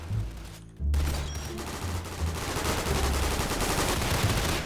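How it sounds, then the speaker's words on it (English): A custom-built gun in a weird gun-building game is fired from the hip, loosing a rapid, loud burst of shots that starts abruptly after a short pause and keeps rattling on to the end. "My shots aren't hitting anything."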